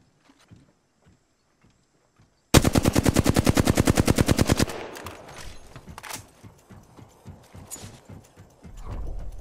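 Rapid automatic weapon fire in the online shooter Apex Legends, a loud sustained burst of evenly spaced shots lasting about two seconds, followed by scattered fainter shots and footsteps-like thuds.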